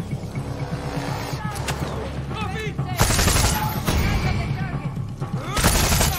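Bursts of automatic gunfire from military enemies in the video game Far Cry 6, rapid, loud and close, with heavier volleys partway through over a dense game soundscape and a voice talking.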